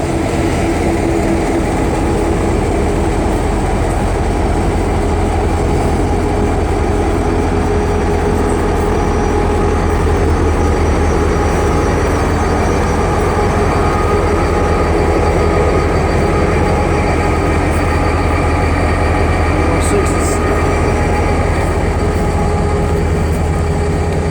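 Great Smoky Mountain Railway train with an older engine near Bryson City, North Carolina, a loud continuous rumble and rolling rail noise that holds steady throughout with no talking.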